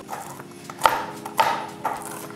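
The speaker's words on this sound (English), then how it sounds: "I still have a little more chopping to do." A knife chops pecans on a cutting board in a home kitchen, three distinct crisp strikes spaced about half a second apart, close and moderately loud over a faint background hum.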